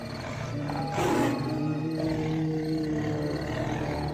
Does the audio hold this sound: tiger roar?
yes